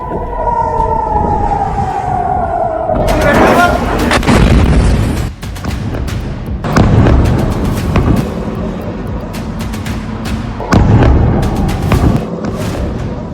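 Iranian missiles strike over Tel Aviv as a wailing air-raid siren falls away and is cut off by several loud, rumbling explosions spread out one after another, each with a long trailing roar.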